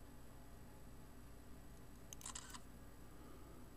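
Very faint click of a Sony W30 compact digital camera taking a picture after a shutter hack, one brief mechanical tick over a low steady hiss, near and quiet.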